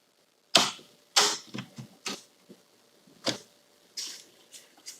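Snips bite through metal acoustical ceiling wall mold at an outside corner, a series of sharp, close, separate crunching clicks spaced unevenly with quiet gaps between cuts.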